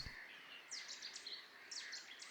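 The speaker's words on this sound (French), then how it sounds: "Dans la brume du matin, une véritable symphonie de chants d'oiseaux." Birds sing in a reed marsh nature reserve on a misty morning, with repeated high chirps and trills at moderate distance over a steady, faint background chorus.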